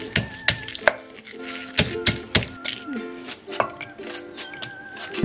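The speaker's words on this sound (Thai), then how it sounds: "นี่นะคะพริกกับกระเทียมเนาะเดี๋ยวจะมาตำกินนะคะ" Chili and garlic are pounded in a mortar in a series of sharp, close thuds in an irregular rhythm, each strike ringing briefly, over about five seconds.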